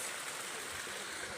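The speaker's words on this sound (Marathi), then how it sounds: "सिंपल साधा वॉटरफॉल. फास्ट पाणी." Fast water spills down a small waterfall near Dindi fort as a steady, even rush of white noise. It is brief and continuous, with no voices.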